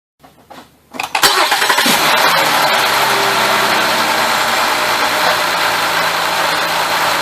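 A 2006-2009 Mercury Milan with a 3.0L engine, just after new spark plugs, cranks briefly, catches and settles into a steady, smooth idle, loud and close with no talking.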